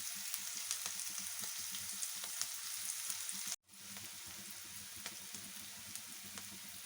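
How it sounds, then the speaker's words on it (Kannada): Onions frying in a pan for a brinjal curry, a steady, quiet hiss of sizzling oil with faint crackles, cut off briefly midway before resuming, no talk. "ಈರುಳ್ಳಿ ಹೀಗೆ ಫ್ರೈ ಆಗಲಿ."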